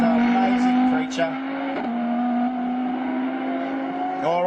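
An Audi R8 race car at a time attack event drones loudly on the track with a sustained steady engine tone, brief rising revs between gear changes, under a commentator's talk.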